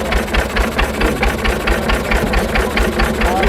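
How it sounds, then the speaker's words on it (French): A 1910 stationary engine with water-hopper cooling runs steadily nearby, a loud, even chuffing beat with a knocking rhythm and no talk. "Alors ça c'est un moteur à bouillotte"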